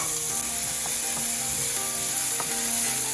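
Shallots sizzle steadily in a hot pan, a constant crackling hiss with occasional soft scraping from stirring.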